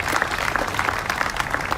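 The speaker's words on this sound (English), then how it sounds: "Please give a round of applause to Congressman Bill Foster of the 11th District." An audience at an arts center grand opening applauds Congressman Bill Foster, a brief, moderately loud patter of many hands clapping at a steady pace.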